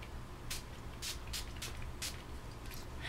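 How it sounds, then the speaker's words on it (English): Several quick hissing bursts of makeup setting spray onto a face, roughly evenly spaced, over a steady low background hum; close and fairly soft. "we're going to be spraying this all over our face"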